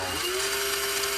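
A small electric motor in a vintage Tomy Chatbot toy robot whirs with a steady high-pitched whine, its tone stepping up briefly at the start and then holding evenly.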